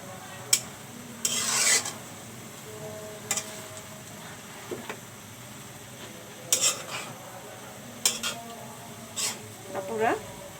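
Taro leaves (kochu shak) cooking in a pan are turned with a utensil, giving scattered scraping and rasping strokes against the pan in short bursts, with a quiet background.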